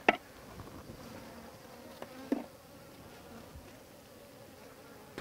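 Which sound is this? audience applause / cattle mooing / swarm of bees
swarm of bees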